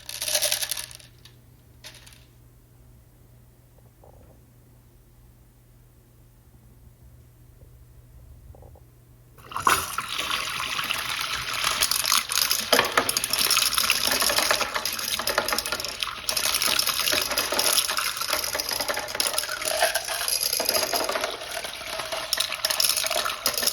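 A prototype toilet with a completely full tank flushes a whole container of marbles: a quiet stretch with a few faint clicks, then a sudden loud rush of water that keeps surging and churning until the end.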